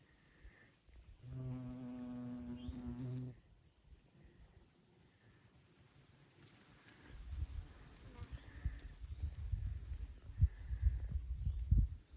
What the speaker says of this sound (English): No honeybees, some other kind of bee.